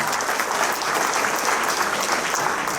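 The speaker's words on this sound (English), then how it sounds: "Can we have a nice round of applause for the inductees from Lee Heights?" An audience in a memorial hall gives a warm, sustained round of applause for sports hall of fame inductees, dense steady clapping that fills the room with no break.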